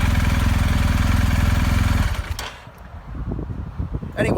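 BMW R 1250 GS motorcycle engine idling steadily up close for about two seconds, a low pulsing drone, then dropping away into quieter mixed noise.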